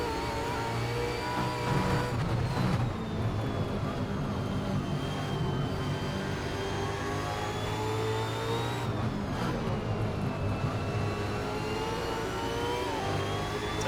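A V8 Supercar in the Assetto Corsa racing game screams around Eastern Creek at night, its engine note rising and falling through gear changes in a sustained, loud drone with no voices over it.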